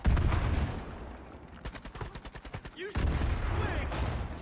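Gunfire in Far Cry 5 comes first as a dense rattling fusillade, then as a rapid, evenly spaced string of loud automatic shots, with game noise and some talking around it.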